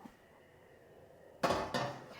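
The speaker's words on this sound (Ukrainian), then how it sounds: "розмішала я молоко і ставлю вже каструлю на плиту" After a quiet stretch of faint hum, two solid metallic clunks sound close by as a pot of milk is set down on a stovetop.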